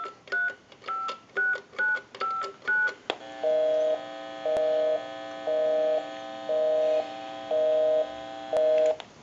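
On a converted Kellogg wooden wall crank telephone, a quick run of about six touch-tone dialing beeps is followed by a repeating busy signal, six evenly spaced pulses under a faint mains hum.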